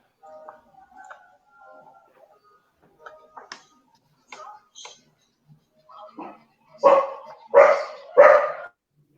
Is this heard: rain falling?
no